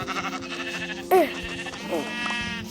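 A sheep bleats twice over a steady background hum, one sharp close bleat followed by a softer, shorter one, in the video game Minecraft.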